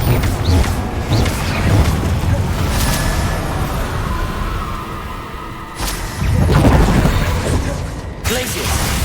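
Spell explosions from Confringo casting in the video game Hogwarts Legacy burst repeatedly through dense, continuous combat noise, with loud booms and bright flares near 6 and 8 seconds over a rumbling low-end bed.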